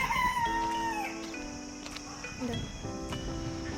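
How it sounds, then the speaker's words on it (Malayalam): Chickens on a farm in Ras Al Khaimah cluck and call close by, with people talking over them. "കോഴി ഉണ്ട് അതിൻ്റെ ഉള്ളിൽ"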